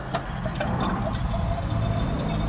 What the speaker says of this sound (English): just fill up the cylinders with a mixture of diesel and oil